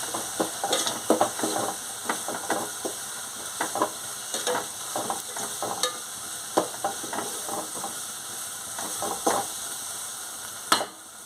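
Spices and salt sizzle and fry in a pan while being stirred for a Kathiyawadi green onion and sev curry, a continuous close hiss broken by frequent scraping and clicking stir strokes.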